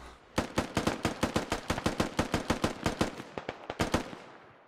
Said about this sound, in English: More shots being fired.